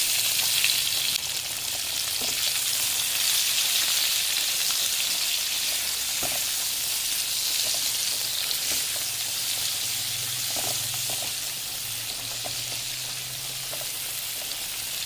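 Chopped onion, cumin seeds and dried red chillies fry in hot oil, a loud, continuous sizzle with occasional soft stirring taps, close up and steady throughout with no voices.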